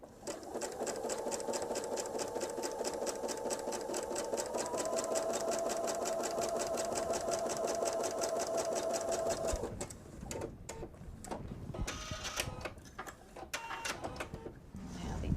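A sewing machine stitching a bench pillow seam, a fast steady whirring chatter for about ten seconds, then stopping with scattered handling clicks afterward.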